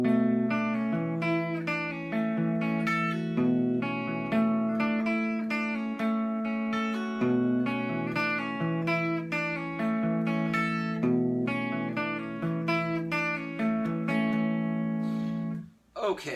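Guitar plays the pre-chorus part, a steady run of picked notes and chords across about sixteen seconds, clear and upfront, ending with a brief dip.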